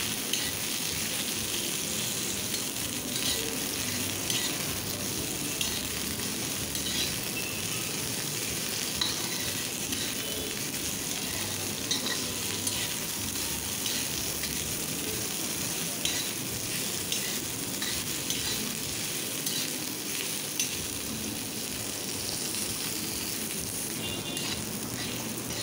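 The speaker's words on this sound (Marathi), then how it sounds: "हे लालसर होईपर्यंत आपण हे लसूण आणि कांदा चांगला परतून घेणार आहोत।" Garlic and onion sautéing in a pan, stirred until reddish-brown for a Marathi alu vegetable dish: a steady, close sizzle of frying with continuous stirring scrapes, even and unbroken throughout, no talk.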